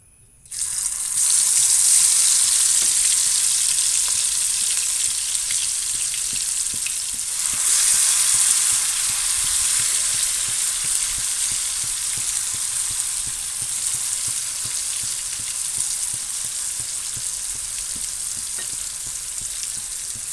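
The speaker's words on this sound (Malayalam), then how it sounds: "ഇനി നമുക്ക് ഈ മസാല തേച്ചതുണ്ടല്ലോ അതിലേക്ക് ഇട്ട് കൊടുത്തിട്ട് നമുക്ക് ഫ്രൈ ചെയ്തെടുക്കാം." Masala-coated soya chunks dropped into hot oil in a pan burst into a loud, dense hiss that holds steady for the full stretch, close up with a faint surge partway through and no voices.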